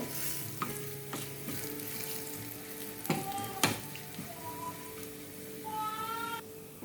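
Onions frying in a pan with chilli powder stirred in, a steady low sizzle with a few sharp clinks of a spoon against the pan and faint tonal squeaks, no one speaking.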